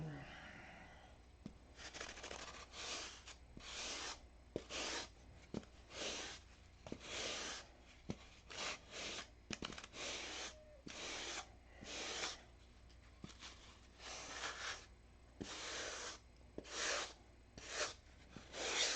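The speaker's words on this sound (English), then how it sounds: "I'm using 80 grit." Wood on a model stunt plane is sanded by hand with 80-grit sandpaper, making rhythmic rasping strokes that come in repeated close bursts with short pauses between them. A faint voice can be heard underneath.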